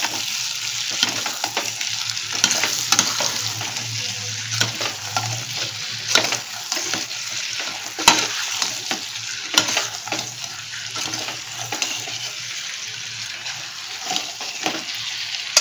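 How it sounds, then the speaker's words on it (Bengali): Vegetables cooked with salt and sugar for dhaba-style kadai chicken frying in a kadai, a continuous loud sizzle with repeated scraping strokes of a spatula as they are stirred, no voices over it. "ভালো করে হোক ভাজা।"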